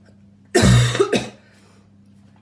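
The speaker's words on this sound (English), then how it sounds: "you will get a sprinkle of cough weaved into the whole entirety of this video" A single loud, harsh cough with a rough second burst right after, close to the mic, then quiet room tone.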